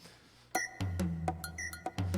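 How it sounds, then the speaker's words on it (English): A Roland MT-32 synthesizer module plays music with bright, struck bell-like notes over low sustained tones, quiet and rhythmic, with no talking. "So what you hear right now is all coming straight out of the MT32."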